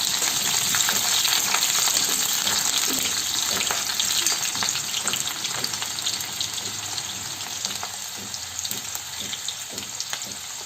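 Onions sizzle and crackle steadily in a hot pan for chickpea and paneer ghugni, a dense continuous frying hiss with occasional stirring clinks, no voices.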